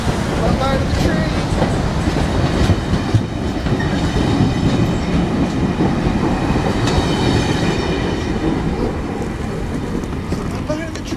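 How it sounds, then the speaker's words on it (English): A train passes close by with a loud, steady roar of wheels and rail clatter that stays continuous throughout, with no voices audible. "Bye-bye to the train."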